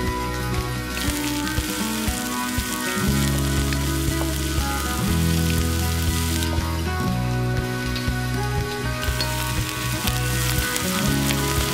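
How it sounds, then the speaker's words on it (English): Carrots and onions sizzle steadily in a pan for fried rice, a loud continuous crackle and hiss with no voices. "Then add in the onions and let it fry for another minute or 2 until it has become translucent"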